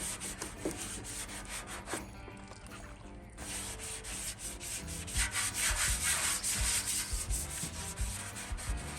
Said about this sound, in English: Always, when I worked with Monroe, I always hated water sanding.